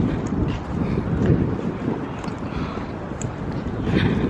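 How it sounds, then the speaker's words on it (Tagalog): Steady wind buffeting the microphone, a continuous rushing roar with gusty swells throughout, no distinct other sounds. "Mahangin eh."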